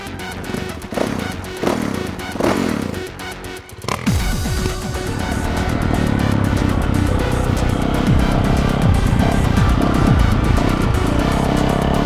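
A few knocks and clatter, then a 2018 Yamaha YZ450F motocross motorcycle engine fires up and runs loudly, throbbing and revving up and down nearby.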